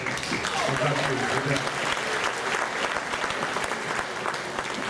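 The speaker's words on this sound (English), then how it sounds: "Let's give him a big hand." Audience applause at a 2014 Hall of Fame induction ceremony: a dense, steady clapping from a large crowd fills the whole stretch at an even loudness, with faint voices blended underneath.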